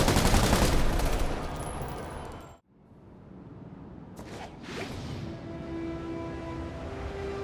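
Dense rapid gunfire in a Spider-Man video game set in Times Square roars loudly, then cuts off abruptly. Whooshing and scattered distant shots follow more quietly.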